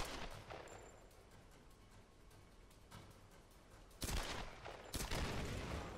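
Gunfire in Tomb Raider (2013) during a firefight: rapid volleys of shots crackle faintly at first, then a louder burst hits near the end with several sharp close reports, all over steady low background noise.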